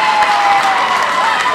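Sustained, dense applause and some cheering rise from the crowd after a men's All Ireland softball singles handball final win, loud and continuous throughout.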